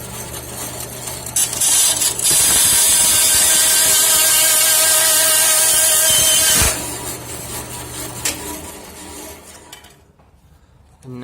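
A power tool whines loudly and steadily as it cuts a wooden straight razor wedge, holding for several seconds before winding down, followed by quieter workshop handling noise.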